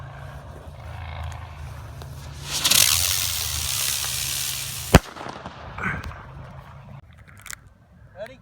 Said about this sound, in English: That's the ones that spin up and then blow up in the air, making a buzzing sound.